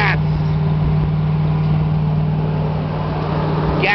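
A GMC truck engine runs with a steady, loud, close-up rumble and a constant low hum throughout, with no pauses or changes in pitch.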